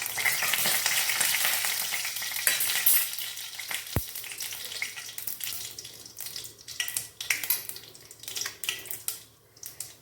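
Whole cinnamon, clove, star anise and fennel frying in hot oil, a dense close sizzle that fades and breaks into crackling bursts, with a loud kitchen chimney fan running.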